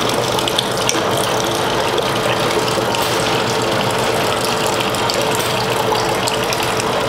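Soda filling plant machinery runs steadily while Red Bull flavor is fed into the line, a loud, continuous mechanical clatter and ratcheting with a watery gushing wash underneath, constant throughout without pauses.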